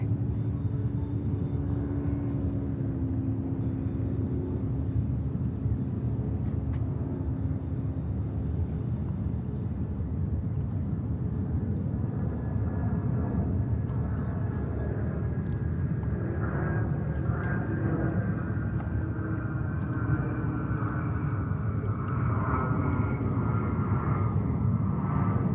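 Japan Airlines airliner lining up for takeoff at JFK, a continuous distant engine rumble and hum, a low tone fading early and rising whining tones building in the second half.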